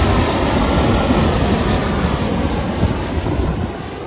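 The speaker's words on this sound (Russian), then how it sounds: "здесь самолеты летают над нами" Airplanes pass overhead above a beach in Turkey, a loud, continuous engine roar that holds steady throughout, with no voices.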